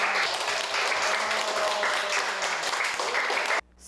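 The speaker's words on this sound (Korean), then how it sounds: "자, 오늘 여러분들 모두 다 수고했으니까 박수 한번 칠까요?" Children at the end of a kids' coding class with Scratch and Arduino break into dense, steady clapping that carries on evenly for about three and a half seconds before cutting off abruptly.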